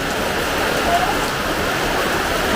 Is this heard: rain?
yes